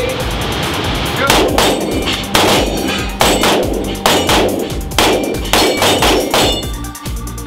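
Pistol shots from an STI and a Glock 43 at an indoor luxury range, striking a steel dueling tree: about eight loud, sharp reports in a fast irregular string, each with a metallic ring, over steady background noise.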